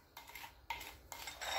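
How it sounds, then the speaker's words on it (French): A spoon scrapes and taps around a bowl while turmeric face-mask paste is mixed, three short bursts of soft scraping and clinking, close and fairly quiet. "Mélangez bien pour obtenir une bonne pâte homogène."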